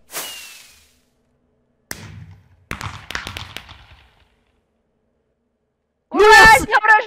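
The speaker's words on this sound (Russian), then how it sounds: "Давай фейерверк запускай" Minecraft fireworks: a rising launch whoosh, then a sharp bang and a scatter of crackling pops that die away into silence, before a voice briefly speaks at the end.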